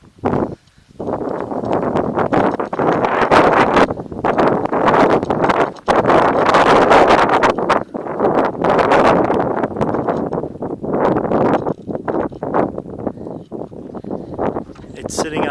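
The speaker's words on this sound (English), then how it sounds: "It is windy here today." Strong wind buffets a camera microphone outdoors beside a 2007 Gulf Stream Crescendo diesel pusher motorhome, a loud continuous rumbling roar that gusts and dips throughout, with someone speaking beneath it.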